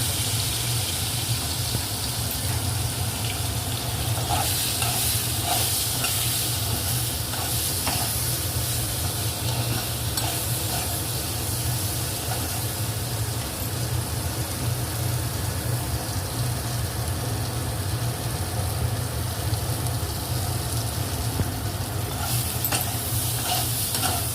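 Fenugreek leaves frying with brinjal in a little oil, a constant loud sizzle with bursts of crackle and stirring noise across the whole stretch, no voices.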